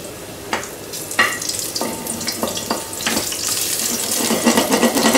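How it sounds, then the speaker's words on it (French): Garlic browns in a frying pan with a soft, rising sizzle, punctuated by several sharp clinks and scrapes of a utensil against the pan. "Je mets d'abord l'ail. J'aime bien le faire légèrement coloré"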